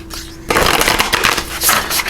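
A deck of oracle cards is shuffled by hand close up, a dense rustling and riffling flutter that starts abruptly after a faint hum and continues steadily.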